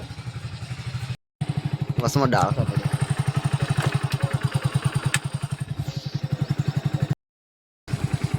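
A motorcycle engine putters steadily at idle with a rhythmic thumping, close by, while someone speaks briefly over it.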